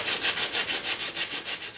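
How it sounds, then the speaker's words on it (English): A sanding block rubs back and forth over carved wood to take off paper, giving about a dozen steady, rhythmic scratchy strokes, close and alone. "you want to finish off with a sanding block, which you can just remove a lot of this paper like so"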